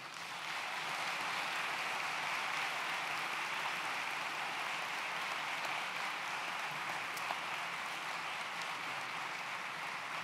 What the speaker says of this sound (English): I ask you to demonstrate your appreciation by applauding the faculty seated in the front rows and on the stage.